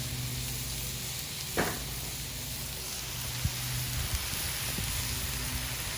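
Oiled Italian rolls toast face down on a Blackstone flat-top griddle with a steady, soft sizzle, broken by a few faint clicks and bumps from handling.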